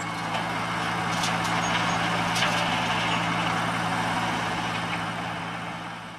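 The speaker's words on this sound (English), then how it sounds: "an Allis-Chalmers HD7 crawler tractor equipped with a LeTourneau tournaloader working on a road construction site in Australia" An Allis-Chalmers HD7 crawler tractor fitted with a LeTourneau Tournaloader works on an Australian road construction site, its heavy diesel engine droning steadily and loudly with a low rumble throughout.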